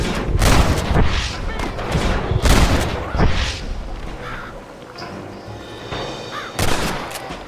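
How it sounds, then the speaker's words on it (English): Gunfire rains down from a clifftop in Red Dead Redemption: loud, booming shots recur every couple of seconds amid a busy battle din, with voices shouting between them. "They're shooting down on us!"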